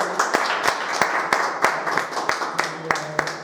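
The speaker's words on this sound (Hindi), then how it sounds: "बहुत जोरदार तालियां में।" An audience at a talk about a crypto coin claps loudly. Crisp individual claps ring out at an uneven, rapid pace, with a voice talking in the room alongside the clapping.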